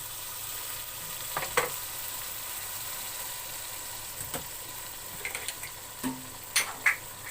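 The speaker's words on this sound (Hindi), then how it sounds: "अब इसको मैं थोड़ी देर भून लूंगी।" Mutton for cream korma frying in a pot in a soft continuous sizzle, fairly quiet, broken by a few sharp spoon scrapes and stirring clinks.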